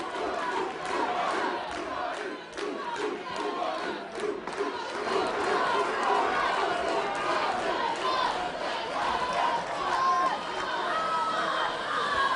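Boxing crowd cheering and yelling around the ring, a dense, loud roar of shouts and babble sustained throughout with voices mixed in.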